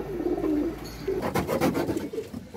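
Pigeons coo close by, low throaty rolling calls repeating in a loose rhythm, with some rustling and fluttering noise in the middle.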